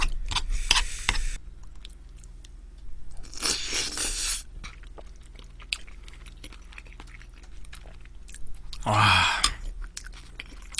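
Someone eats rice balls mixed into spicy chicken stew, with a few bursts of close, wet chewing and crunching separated by quieter pauses of small scrapes and clicks.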